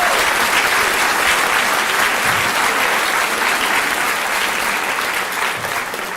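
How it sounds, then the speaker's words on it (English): A large audience giving loud, sustained applause to welcome keynote speaker Chris Kilkenny at an education festival, dense continuous clapping throughout, easing slightly at the end. "put your hands together for Chris Kilkenny!"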